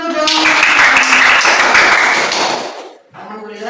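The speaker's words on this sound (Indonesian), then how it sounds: "Tepuk tangan dulu dong" A class of students claps hands in applause during a lesson, a dense, steady patter of many claps lasting about three seconds, then a brief pause before voices resume.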